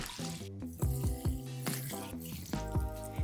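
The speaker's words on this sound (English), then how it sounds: "Cover with lukewarm water." Lukewarm water runs steadily from a tap into a bowl of rice noodles for soaking, a close, continuous splashing flow under faint musical tones.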